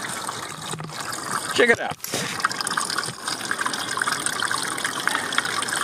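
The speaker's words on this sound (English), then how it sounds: "That is our rainwater. We're not exactly sustaining the water coming out." Rainwater gushes and trickles steadily out of a curb drain, a continuous liquid wash close by, with people talking over it.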